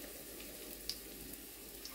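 Grated potato pancake batter, Ukrainian deruny, fries in a hot pan with a steady soft sizzle and a few small pops.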